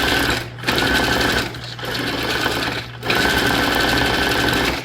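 A sewing machine stitches paper junk journal tags with a loud, steady mechanical whirr that stops briefly three times between runs; no voice is heard.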